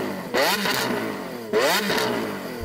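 Lamborghini Aventador S V12 engine revved twice, each sharp rising blip followed by a falling, crackling settle back to idle, loud and close with no voices.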